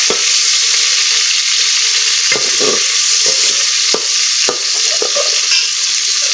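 Chopped onions sizzle steadily in hot ghee, with a spoon scraping and stirring the pan every so often.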